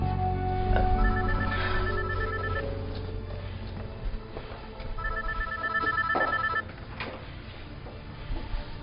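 A telephone rings in a Turkish TV drama scene, sounding two distinct bursts of electronic ringing, roughly a few seconds apart, over a faint room background with no speech.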